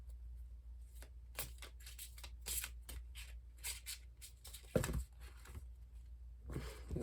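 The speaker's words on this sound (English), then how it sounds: "I want me to go back and shuffle." Repeated crisp riffling and slapping of tarot cards being shuffled, in quick irregular bursts close to the listener.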